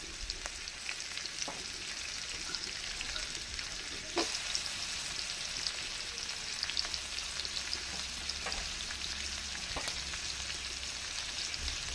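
Chopped tomato sizzling in a little oil for a light, healthy breakfast dish: a steady close frying hiss fills the whole stretch, with occasional soft stirring knocks and no voices.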